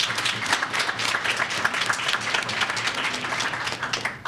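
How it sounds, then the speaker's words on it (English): A big round of applause at a school board meeting, many hands clapping in a dense, sustained patter at moderate loudness, with no talk over it. "let's give her a big round of applause real quick."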